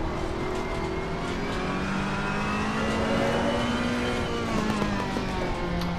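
A race car engine in Assetto Corsa Competizione holds second gear on track, a steady loud drone with slowly shifting pitch and faint tire noise, continuous with no talk.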